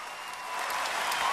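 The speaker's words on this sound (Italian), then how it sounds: "allora un applauso anche a lei" Brief audience applause at a local community event in Valtrompia, a soft wash of clapping that swells slightly toward the end.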